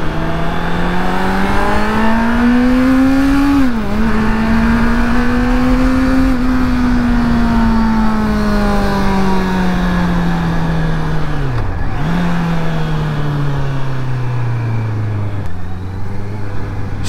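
A Honda CBR650R motorcycle with E-Clutch revs loudly up through the gears in full manual mode, its engine note climbing and then dropping sharply at each of several shifts, close and continuous, with no voices.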